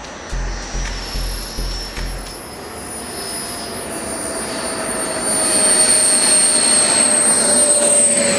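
Four Jetsmont 166 turbine engines on a large RC jet with a 12-liter fuel tank, scale model of a world-record-size radio-controlled aircraft, whine steadily and loudly with a high-pitched turbine tone, swelling louder near the end.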